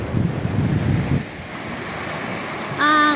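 Big sea waves on a rough coastal morning, with a heavy rolling surf rumble and steady wind buffeting the microphone that eases partway through, then a faint tonal whine near the end.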